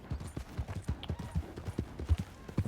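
A horse's hooves clip-clop in Red Dead Redemption 2, with close, uneven hoofbeats tapping out a walking rhythm for a few seconds and no talk.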